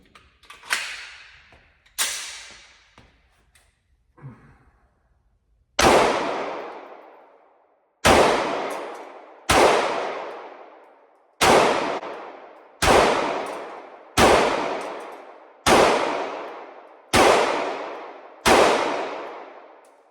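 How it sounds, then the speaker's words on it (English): A Sig Sauer P229 pistol fires at a target at the range: two or three quieter early shots, then a steady run of about ten loud, sharp reports, each followed by a ringing decay. "So I have loaded up another mag, so I'm gonna shoot at least 2 because this target's too cool just to shoot 1 mag on."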